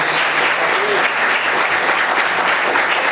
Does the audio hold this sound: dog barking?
no